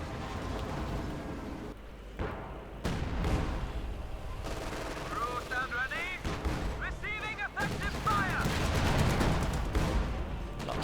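Artillery and gunfire from a 1v1 Company of Heroes 2 match: a dense barrage of booming blasts and crackling shots rolling over a continuous battle din, with bursts swelling and overlapping throughout.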